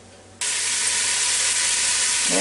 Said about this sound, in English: now this is sizzling right along pretty good here.